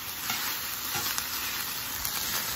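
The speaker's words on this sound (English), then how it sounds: "Now, you want to totally stir it up" Beef bulgogi meat fries and sizzles in a hot pan while being stirred, a steady close hiss broken by small scraping clicks, with no talking.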